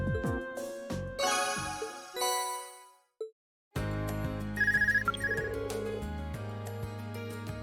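An Arcus handheld communicator from the Trails of Cold Steel video game rings with a bright electronic jingle over in-game background music, which cuts out briefly before the melodic ringtone continues loud and clear.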